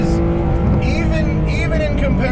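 Porsche 991.2 GT3 RS engine pulling steadily while driving, a loud continuous drone with shifting tonal whine and some tire noise, heard from inside the car.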